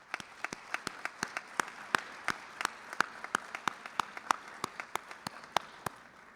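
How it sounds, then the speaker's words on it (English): Applause at a scholarship awards night, heard as a steady run of sharp, evenly spaced claps, close and crisp but fairly quiet, like a single person or small group clapping rather than a full roaring crowd. "let's start with like a round of applause in acknowledgement of the unbelievable amount of support that you have done"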